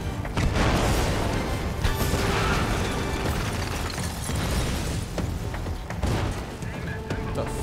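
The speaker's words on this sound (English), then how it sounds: "Explosions." Explosions and crashing impacts from the James Bond video game 007 Legends, Goldfinger mission at Auric Enterprises, form a loud, dense, continuous barrage of booms and debris, with brief sharp bursts throughout.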